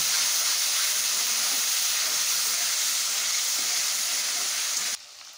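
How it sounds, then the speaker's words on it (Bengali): Ginger paste tipped into a hot pan while cooking Baghair fish, giving a steady, loud broadband sizzle with hiss and steam that holds evenly for about five seconds before dropping off sharply. "আদা পেশা করে নিয়েছি, এইটা এখন ঢেলে দেবো। একটু ভালো করে কষিয়ে নেব।"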